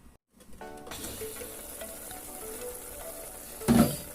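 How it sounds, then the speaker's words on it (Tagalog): String beans bubbling in a covered pan on the stove, a steady soft sizzle and simmer after a short pause, with a louder clatter near the end. "kulong-kulo na"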